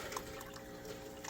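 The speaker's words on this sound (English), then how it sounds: "you can hear that the reservoir on the inside here is filling up" Water trickles and fills the internal reservoir of a 42-gallon aquarium chiller, a soft continuous gurgling flow, faint and close with no voices.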